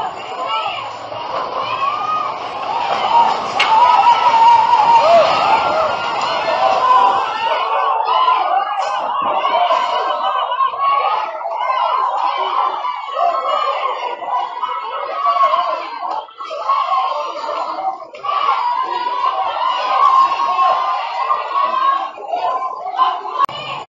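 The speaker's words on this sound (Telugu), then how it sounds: "కేకలు వినండి ఒకసారి." Panicked people scream and shout during an earthquake in the Philippines, a dense, sustained tangle of voices that stays loud for the whole stretch, with a deeper rumble at the start.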